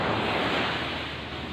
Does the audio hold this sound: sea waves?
yes